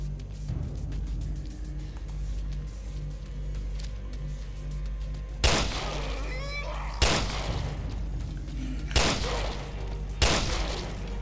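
Four sharp gunshot bursts ring out over a steady Resident Evil: Revelations 2 game soundscape, spaced roughly a second or two apart, loud and close.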